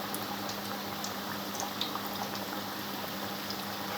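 Chicken kachori frying in hot oil over a medium flame, a steady, dense bubbling sizzle that runs evenly throughout at moderate loudness with no talk.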